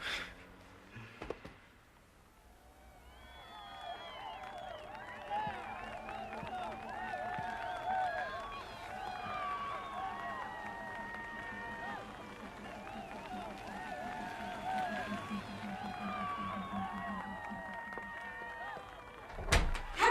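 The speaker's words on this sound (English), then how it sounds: "There's a crowd. There must be 50 people or more, and they're cheering for you." An outdoor crowd of about fifty people cheering, a steady wash of many overlapping voices and shouts at moderate distance, with a door slam and clatter at the start and at the end.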